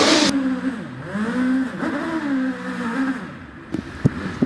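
A hillclimb race car revs hard through a series of tyre-warming bursts at Doune during a British Championship event, the engine note rising and falling several times close by before a few sharp pops near the end.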